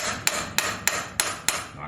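A small hammer knocks on the shifter of a Harley-Davidson Road Glide Special during a teardown, five sharp, evenly spaced metallic taps up close.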